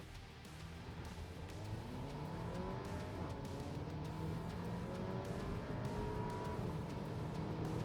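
Porsche Macan with its base four-cylinder engine accelerating hard in an SUV, a steady engine drone with rising tones as it pulls through the gears, heard from inside the cabin without speech.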